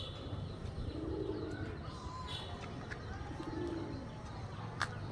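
Teddy and Golden cross pigeons coo close by in low, rolling murmurs, with a few soft chirps over a steady background hum.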